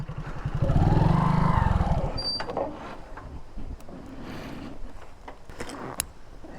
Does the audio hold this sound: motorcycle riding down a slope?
yes